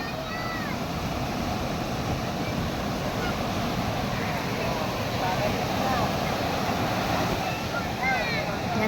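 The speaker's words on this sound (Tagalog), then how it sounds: "Medyo malaki po ang alon" Large sea waves surge and roll along a Philippine coast, a constant loud wash of surf mixed with wind buffeting, steady throughout with no break.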